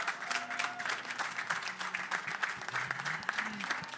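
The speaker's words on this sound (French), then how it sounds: "On peut vous applaudir." An audience at a regional business panel on growth and the environment in Occitanie applauds the panel guests, with steady, dense clapping that fills the whole stretch at a moderate distance.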